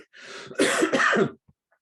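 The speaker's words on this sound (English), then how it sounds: "Excuse me, a tail end of a cough, non-COVID." A single short, raspy cough, close and fairly loud, followed by a faint breath in a quiet room.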